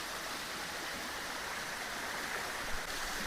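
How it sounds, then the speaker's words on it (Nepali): Cold water pours steadily into a natural swimming pool, a dense, unbroken rushing hiss close by, with no voices. "यहाँ चाहिँ बबाल पानी बगिरहेछ"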